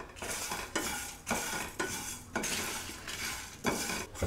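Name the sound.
poppy seeds lightly frying in a pan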